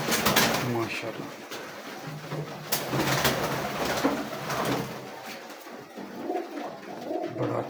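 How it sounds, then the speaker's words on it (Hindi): Pigeons in a breeding setup in Gujranwala coo softly amid a busy, noisy background, with people talking nearby. "बड़ा अच्छा कबूतर है।"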